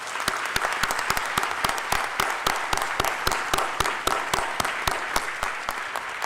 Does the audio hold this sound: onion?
no